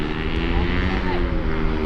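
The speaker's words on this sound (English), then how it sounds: "now we are going to get a sound clip of the G82 BMW M4" A 2021 BMW M4 Competition G82 engine runs with a steady, loud, continuous drone and strong low harmonics, sustained throughout without pauses.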